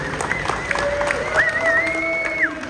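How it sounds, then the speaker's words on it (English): Crowd applause and cheering at the Buckeye Bike Show 2023, a steady wash of clapping with a whistle-like tone rising through it, moderately distant and continuous for a few seconds. "So I do have to give you a round of applause."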